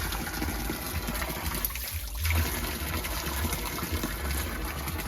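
Water runs from a natural spring in Rocinha, a favela in Brazil, a steady nearby gush and splash that continues throughout with a brief dip midway, and no speech.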